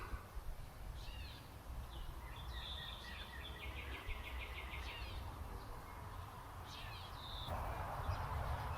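A bird calls outdoors around a property with a lighthouse and small house, repeated short chirping phrases at moderate distance over a faint steady background hum of insects and wind.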